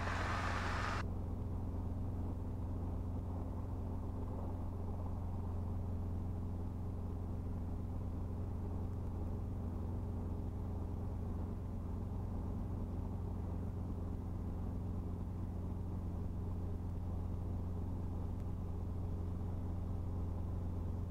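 Steady, loud interior rumble of a helicopter in flight, a deep continuous drone with a low throbbing rotor beat and engine whine running unbroken throughout, with no talking.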